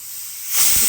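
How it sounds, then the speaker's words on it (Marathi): A pressure cooker of khichdi vents through its whistle: a soft background hiss that swells abruptly into a loud, sharp rush of escaping steam partway through the brief moment. "आता तिसरी शिट्टी झाली की कुकर बंद करून टाकूया आपण"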